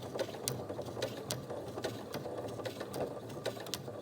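Sewing machine stitching around the curved edge of a fabric face mask, a steady mechanical whir with rhythmic clicking needle strokes that runs close and continuous with no talk.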